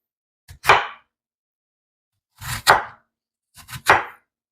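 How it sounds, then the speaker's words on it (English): Apples are chopped with a knife on a cutting board in three quick bursts, each a couple of close, crisp cuts ending in a knock on the board, with pauses between. "Just chop them up any old way you want to, and they will be just fine."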